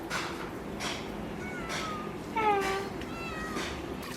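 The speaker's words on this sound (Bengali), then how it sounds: "বিড়ালটা কিরকম আসছে, প্রতিদিন মাছ ধরার সময় আসে" A cat meows several times in short, rising calls while someone catches fish outdoors, close and clear over faint background voices.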